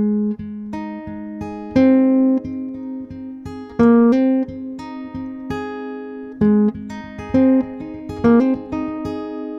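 Plucked guitar notes ring out in a repeating picking pattern, with a quick hammered note slurred in partway through each cycle; close and clear, no talking.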